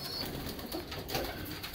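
White Janssen racing pigeons coo steadily inside a loft, a soft continuous murmur of several birds close by with no talking.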